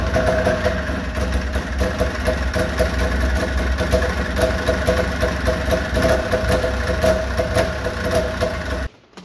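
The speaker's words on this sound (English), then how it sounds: "I don't know if you heard the clutch rattling" 1998 Arctic Cat snowmobile engine running steadily at a close, loud idle with a continuous rough mechanical rattle from the clutch, cutting off abruptly at the very end.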